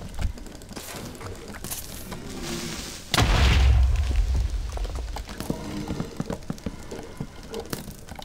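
A Minecraft creeper explodes with a single loud, deep boom partway through that rumbles and fades over a couple of seconds, set against quieter game sounds.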